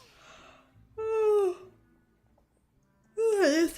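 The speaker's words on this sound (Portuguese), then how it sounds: "Esse bocejo nem foi bom" A person lets out drawn-out, voiced yawns with falling pitch, close and fairly loud, with a soft breathy sound just before them.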